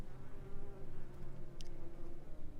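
A bee buzzes steadily and close, a continuous droning hum with a faint tick partway through and no talk.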